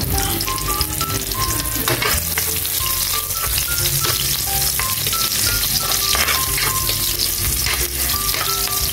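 Onion fries in hot oil and is stirred in a pan for pansit bato, a dense, loud sizzle mixed with scraping and clinking from the utensil, continuous and close up with no talking.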